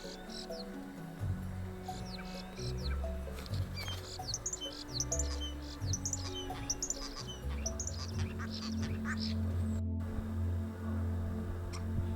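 Birds sing on the Outer Hebrides during a display, with repeated bright chirps and trills over a steady low rumble of wind and ambient noise, moderately distant.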